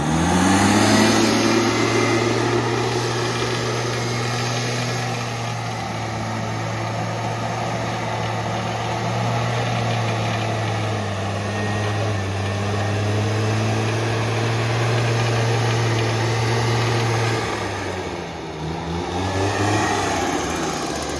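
A homemade gutter blower and vacuum rig powered by a small engine runs steadily, a loud, constant droning hum with a fan rush on top, shifting briefly near the end before settling again.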